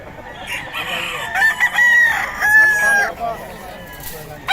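Roosters crow repeatedly with long rising calls while chickens cluck, heard close and loud at a Pampanga poultry sale with stag gamecocks, with some voices talking nearby.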